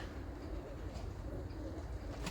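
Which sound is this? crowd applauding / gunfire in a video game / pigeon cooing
pigeon cooing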